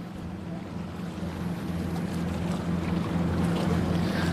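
A motorboat passes at Haulover Inlet on the Fourth of July, its low engine drone steady and swelling slightly louder as it nears, with wind buffeting the microphone.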